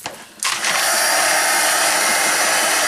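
A hair dryer switches on with a sudden rush and then blows steadily and loudly, held close, while drying a paper craft tag.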